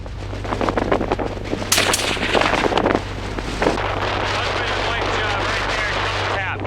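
Rifle shot fired offhand in strong wind during a mule deer hunt in the badlands, a single sharp crack partly smeared by steady wind noise on the microphone, with people talking around it.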